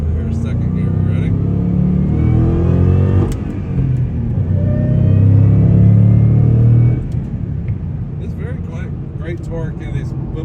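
A supercharged 2006 Mustang GT with a Whipple blower and Borla exhaust accelerates hard in second gear, a loud deep rumble climbing in pitch before a shift, with a person talking near the end.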